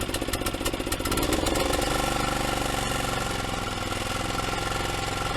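A worn-out small engine sputters and then runs with a rough, rapid clattering rattle, loud and close, holding a steady uneven chug.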